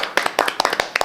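A few people give a short burst of scattered hand claps during a welcome visit at a bicycle shop in Dangjin that sells electric, road and mini-velo bikes; the claps are close, uneven and over in about a second.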